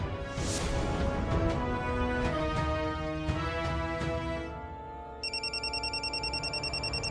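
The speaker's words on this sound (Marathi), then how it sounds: "शालिनी मॅडमचा फोन." A telephone rings for an incoming call, its repeating electronic ring pulses entering near the end after a stretch of background music, fairly quiet and close.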